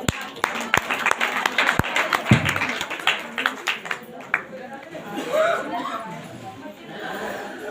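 A church congregation claps, starting with sharp, scattered individual claps that thin out into murmuring and chatter, with voices talking over the later part.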